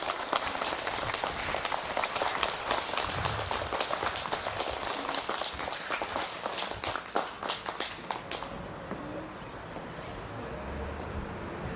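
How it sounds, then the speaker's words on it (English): A crowd claps for students at a school awards ceremony, a dense, moderately distant patter of many hands lasting about eight seconds before trailing off into quiet room tone. "Please give these wonderful KC students a big round of applause."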